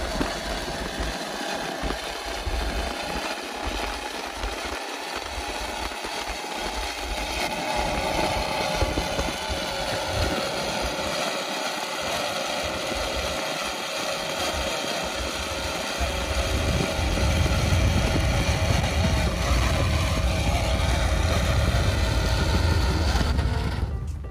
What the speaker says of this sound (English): And it's another Mercury Racing 860 boat.